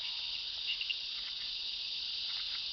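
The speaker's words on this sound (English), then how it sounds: "Nearby, another species of monkey frog is calling for a female." A monkey frog calls for a female, a steady high insect-like trilling chorus that holds evenly throughout, with a few faint chirps.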